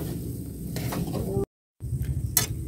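Grated coconut mixture being stirred in a pan, a steady close sizzle with soft scraping strokes, broken by a brief silent gap before the stirring resumes.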